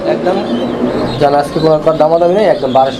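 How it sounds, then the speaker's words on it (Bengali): Pigeons, a pair with young among birds offered for sale in Bangladesh, coo in soft rolling, throaty phrases close by, with voices also present. "এখানে চমৎকার আরো এক জোড়া কবুতর আছে বাচ্চা সহ"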